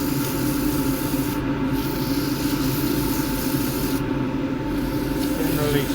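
Abrasive sands a spinning she-oak box on a lathe, a steady close rasping hum with two brief breaks in the scratching as the paper lifts off the wood.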